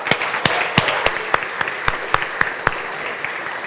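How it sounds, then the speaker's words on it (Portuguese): A church congregation at a youth service claps together, with sparse, distinct hand claps ringing out in an irregular rhythm over a steady bed of applause, fairly close and moderately loud. "Aplaudam o Senhor Jesus Cristo."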